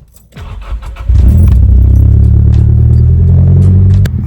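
A Nissan Silvia S14 starts up after a jingle of keys, its engine catching about a second in and settling into a loud, close, steady low rumble that drops away near the end.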